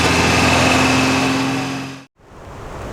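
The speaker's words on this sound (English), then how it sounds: "Winching, all clear" A winch pulling a Toyota 4WD, a loud steady motor whine with a constant tone that cuts out abruptly, followed by a quieter continuing hum.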